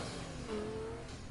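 A car engine revs in Need for Speed Heat, played on PS4, as a steady, loud, continuous roar with a brief rising tone partway through and no talking.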